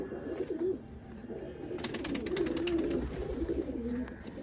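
A female pigeon at a pigeon sale and show coos in low, soft, repeated throaty phrases, close by and moderately loud against a steady background murmur.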